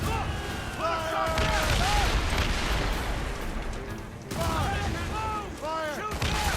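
Cannon broadside fire during a naval battle in Assassin's Creed Rogue, loud booming blasts that overlap and roll on under shouted crew voices and tonal game music.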